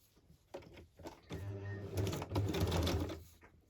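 Sewing machine stitching around a craft piece, starting with short bursts and then running in a steady, fairly loud whir with a motor hum near at hand.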